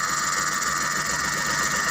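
A Suzuki DA64V van's K6A engine running with a misfire when hot, a steady close idle hum with a rough, even vibration and no talk.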